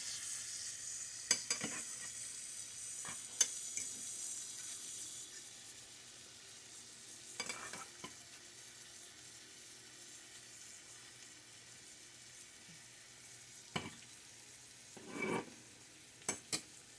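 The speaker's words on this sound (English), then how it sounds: "Starting to sizzle." Quiet sizzling hiss of breakfast street taco ingredients in a frying pan, with occasional soft clinks and scrapes of stirring.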